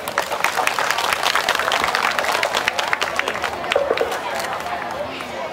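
An audience at a Thai Khon masked dance performance applauds to welcome a teacher, a dense, steady wash of many hands clapping with crowd murmur throughout.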